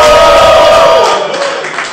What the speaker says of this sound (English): Give him a shout of victory.